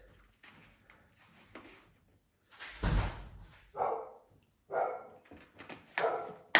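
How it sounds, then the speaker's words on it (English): A dog barks in a few loud, separate bursts at close range, with quieter household clatter before them and no talk. "now the other dog is barking"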